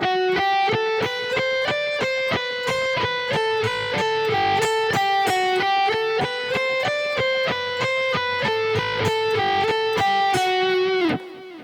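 An electric guitar plays a fast, even picking pattern of repeated notes, climbing gradually, loud and clean, ending on a ringing note.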